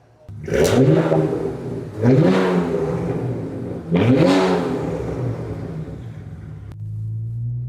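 BMW 335i engine revs hard under throttle three times, each rising roar settling back into a rumbling idle, loud and close, with no talking.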